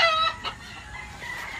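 A fighting rooster gives a few short clucking calls up close, then quieter scratchy farmyard sounds continue.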